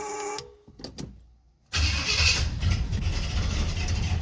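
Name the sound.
1968 Pontiac GTO engine cold start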